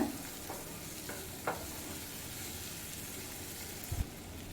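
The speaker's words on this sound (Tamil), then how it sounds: "ஒரு ரெண்டு நிமிஷம் அந்த எண்ணெயில் நல்லா வதக்கி விட்டுக்கோங்க" Cashews, tomato and onion sautéing in oil over a medium flame, a quiet sizzle with a few soft stirring scrapes and a couple of clinks of the spoon near the end.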